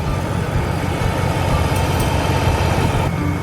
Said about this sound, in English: That's just the sucking sound of the engine drawing in the air.